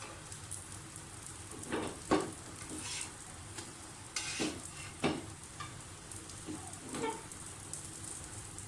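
Besan-coated bread toast fries in oil in a non-stick pan, giving a constant soft sizzle broken by several sharp scrapes and taps as the slices are moved and turned.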